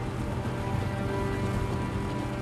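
Rain falls steadily in the video game Watch Dogs 2, a dense, even hiss of drops with a low drone beneath, continuous and fairly loud with no talking.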